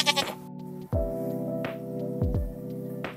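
Sheep in the video game Minecraft bleat several times, short wavering cries repeating at a steady pace and sounding close and clear over a quiet steady background.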